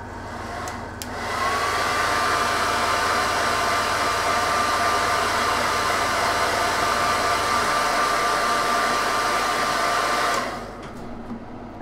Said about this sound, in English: let's hit this with another hairdryer